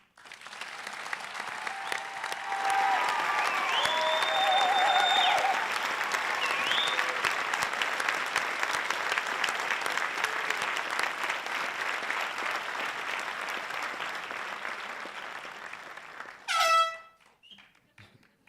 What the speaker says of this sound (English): please join me in a final round of applause for Class 168